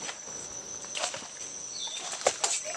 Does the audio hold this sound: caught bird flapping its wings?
yes